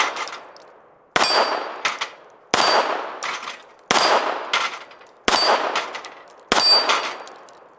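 Ruger Security-380 pistol fired at steel targets, six sharp shots at a steady pace of roughly one per second, each crack followed by a ringing metallic clang that decays before the next.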